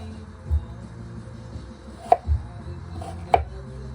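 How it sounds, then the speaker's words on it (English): A kitchen knife chops onion on a cutting board at home, a few sharp, separate chops spaced out over a few seconds with soft low thuds in between and no talking. "Let's cut some onion"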